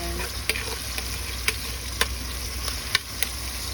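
Garlic fries in hot oil for menudo, a steady close sizzle broken by several sharp spatula taps and scrapes against the pan as it is stirred.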